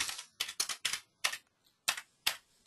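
Keys clack on a computer keyboard in short, uneven bursts of single strokes with brief pauses between, close and fairly quiet, with no one speaking.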